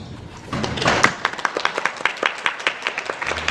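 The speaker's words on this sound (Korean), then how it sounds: "박수를 보내주고 싶습니다" A church lecture audience claps in a room, starting with a brief dense burst before thinning into sparse, separate claps from a few people.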